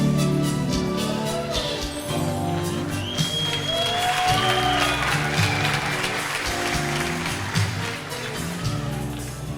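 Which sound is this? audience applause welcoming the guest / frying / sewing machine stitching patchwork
audience applause welcoming the guest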